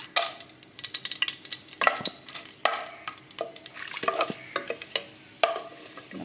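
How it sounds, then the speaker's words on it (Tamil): Cinnamon, cloves, cardamom and bay leaf frying in hot oil for a pressure-cooker kuska: steady crackling sizzle with irregular sharp pops and stirring scrapes, close and fairly loud, without talk. "இந்த பட்டை லவங்கெல்லாம் நல்லா பொரிஞ்சிடுது."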